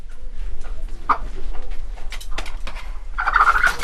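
Chickens at a fetish priest's healing ritual give a few sharp, squawking calls, with a louder burst near the end over a steady low background rumble. No one speaks.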